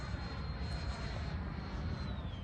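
An HSD T-33 radio-controlled model jet flies at half throttle, giving a steady, loud, continuous roar with a thin high whine that slowly drops in pitch as it passes.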